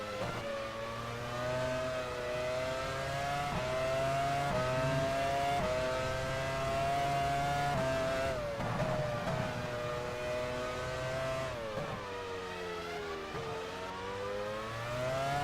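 A Formula 1 car engine in the F1 Challenge 99-02 racing game at the 2000 European Grand Prix, a high sustained whine rising and falling through gear changes, loud and continuous with no talk.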